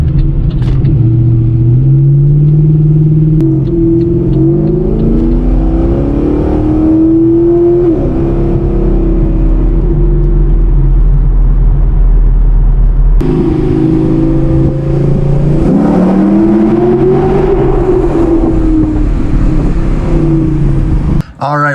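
Pontiac G8 GT with an old exhaust setup does an underpass flyby, a loud, close engine rumble that rises and falls through revs, echoing under the overpass.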